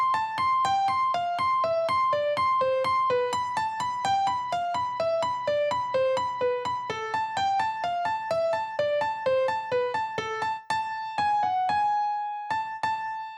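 Right hand alone plays the final melodic phrase of the Passacaglia on piano, a clear sequence of evenly paced single notes stepping downward in repeated patterns before settling on sustained closing notes.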